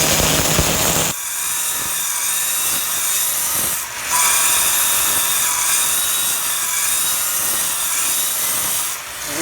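A power saw grinds into a granite block, a loud, harsh, high-pitched cutting roar that holds steady for several seconds with brief dips as the blade works through the stone.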